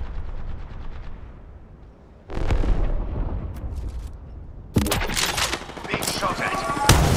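Bursts of gunfire in the Apex Legends battle royale game, loud and close, with a quieter rattling stretch giving way to sharp heavy volleys near the end, mixed with game noise and voices.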